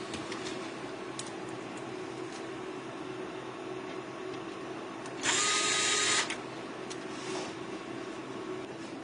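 A small power driver sets screws while light arms are fitted onto a Chasing M2 underwater drone, giving one short, loud, high whir over a quiet workbench background with a few faint clicks.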